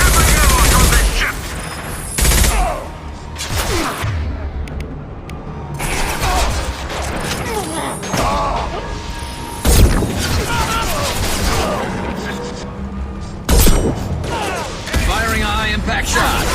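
Mass Effect 2 gameplay with bursts of rapid gunfire and heavy weapon shots, layered with booms and mechanical clanks through continuous loud combat, while voices speak over the fighting.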